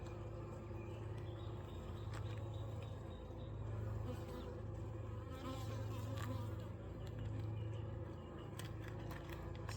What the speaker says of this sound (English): I see a few drones, but mostly worker bees.